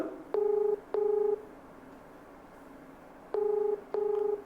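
Four telephone keypad dialing tones sound in two pairs, each a short steady beep separated by a brief pause, with a longer quiet gap between the pairs, over a faint background hiss.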